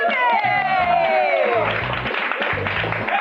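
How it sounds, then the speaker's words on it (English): A studio audience at a live TV show claps and cheers loudly, with whoops and shouts rising over steady applause, while a few voices call out on top. "I love how the audience claps just as loud for the Chumby as they do like, for the whore."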